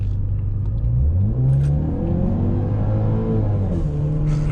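A 2017 Ford Fusion engine revs on the gas, a loud, close, steady rumble with rising and falling harmonic pitch sweeps as the throttle is pressed and eased, heard alone.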